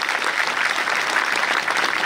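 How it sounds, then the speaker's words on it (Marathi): Audience applause at a Buddhist Dhamma conference event, steady dense clapping from a crowd filling the whole moment, close and loud with no speech over it. "वाजवा टाळ्या सावित्रीसाठी."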